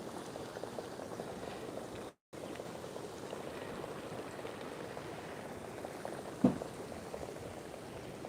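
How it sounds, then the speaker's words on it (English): Hot spring water boiling at Unzen Jigoku, Nagasaki, a steady close bubbling and churning roar with one brief dropout and a single louder pop near the end; no talking. "beautiful boiling hot water"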